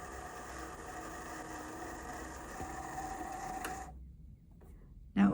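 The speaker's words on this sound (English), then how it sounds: "As I'm winding it, I'm making sure it's not going below the bobbin." A sewing machine winds a bobbin with invisible thread, giving a faint, steady whirring hum that stops abruptly near the end, followed by a short quiet gap and a brief knock.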